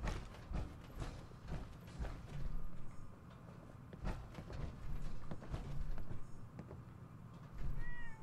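A cat meows in the game Fallout 4, set among in-game footsteps and hoof-like clip-clop sounds, with a few short mews over a busy, moderately loud background.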